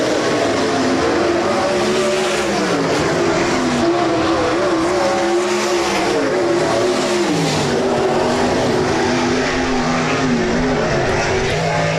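360 sprint cars roar around Rapid Speedway during a heat race, a loud, continuous engine howl rising and falling as the cars charge through the turns, with faint commentary underneath.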